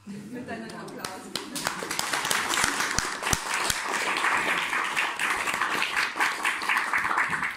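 Applause from an audience builds quickly and holds steady as a dense, continuous patter of clapping, with a few sharper claps standing out near the start.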